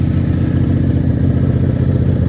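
A Vanelli six-cylinder motorcycle engine warms up at a steady idle, a loud, continuous low rumble with an even, fast pulsing close by and no one talking.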